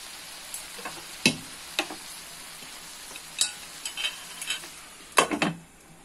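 Tomatoes and onions for paneer butter masala cook under a lid on medium heat, giving a soft, quiet sizzle broken by a few sharp clinks and taps.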